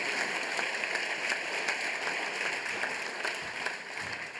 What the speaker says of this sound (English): after you give me maybe a hand of applause